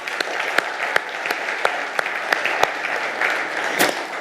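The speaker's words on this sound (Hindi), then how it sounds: "अपने स्वागत में आप तालियां बजा लें।" An audience at the Manthan Summit 2026 claps steadily to welcome a speaker, with dense, sustained applause and a few sharper individual claps standing out throughout.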